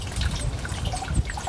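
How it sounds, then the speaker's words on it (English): Gentle trickle of a small Japanese-style garden water feature, a continuous light flow with faint drips, close and calm, heard alone. "That water feature is so nice."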